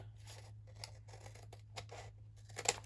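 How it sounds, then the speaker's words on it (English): Scissors trimming the paper edges of a junk journal: a quick series of crisp, close snips in an uneven rhythm over a low steady hum, with no talking. "I'm just going to cut these edges, these ends off anyway"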